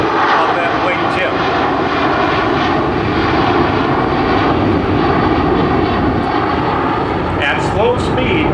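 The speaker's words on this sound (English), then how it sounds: "C-17 Globemaster. He's going to come in and do a tactical landing" A USAF C-17 Globemaster jet at an airshow, flying in slowly for a tactical landing: a loud, continuous, roaring jet engine that stays steady and close throughout, with an announcer talking over it.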